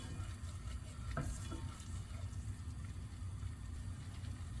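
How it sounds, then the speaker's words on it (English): A flour and butter roux cooks in a pressure cooker while being stirred, giving a soft continuous sizzle with faint scraping strokes, quiet and close, no talking. "now I'm going to mix this up with my butter, and this is going to form a roux"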